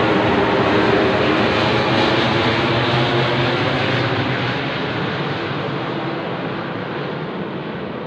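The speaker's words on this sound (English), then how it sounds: "And here comes another plane over my head at this time." A plane passes overhead in a suburb, a loud, broad roar that fills the whole stretch and slowly fades a little toward the end, with no talking.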